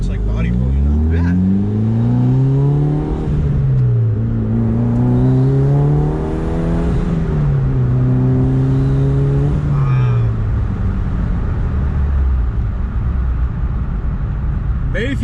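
A 2006 Mitsubishi Evolution takes a turn. Its engine note rises and falls steadily and stays close and loud throughout, with a person talking over it.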